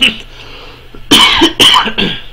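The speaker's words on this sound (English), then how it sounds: "Sorry about the cough." A person coughs twice in close succession, loud and near, after a quiet stretch, with a lighter throat sound trailing at the end.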